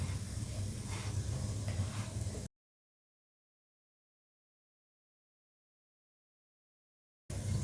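A poli frying in ghee on a pan gives a steady soft sizzle for a couple of seconds before the sound cuts to silence, then returns briefly.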